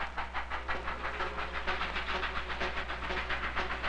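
Early steam train running on rails in a 1970 transportation history film, a rhythmic chuffing pulse repeating steadily over a low constant hum, moderately loud and unbroken.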